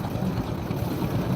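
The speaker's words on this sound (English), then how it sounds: "It's an old John Deere." An old John Deere tractor pulling a plow in a sheep parade runs with a steady low engine rumble, a continuous close putter throughout the short stretch.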